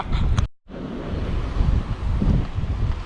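Strong wind buffeting a microphone outdoors on cold, exposed steps, loud continuous low rumbling gusts with a brief dropout near the start, no talking.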